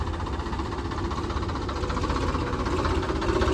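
Farmtrac tractor engine running, a steady close diesel rumble with a fast, even knocking pulse that continues unbroken and fairly loud, no voices over it.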